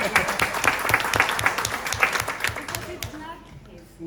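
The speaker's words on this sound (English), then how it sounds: "give them an applause" Audience applause breaks out in a presentation hall at a conference in Portugal, a dense run of clapping lasting about three seconds before it thins out and dies away.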